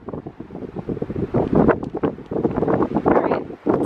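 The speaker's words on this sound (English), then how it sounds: "All right, it's a little bit windy." Strong seaside wind in Atlantic City buffets the microphone in loud, gusty rumbles, with a surf-like wash underneath throughout the short stretch.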